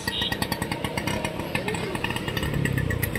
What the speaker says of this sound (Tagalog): Ano ba tong klaseng motor guys? Scooter.